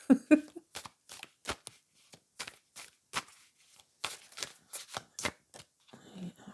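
Cards shuffled in a series of crisp, quick riffles and snaps, close and fairly quiet, with short pauses between bursts.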